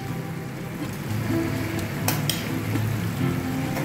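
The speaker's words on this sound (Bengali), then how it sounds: "চিনি দিয়ে এবার এটা একটু ঘেটে দেবো।" Dal and vegetables with sugar are stirred in a sizzling pan, giving steady close frying hiss with a few scraping clicks.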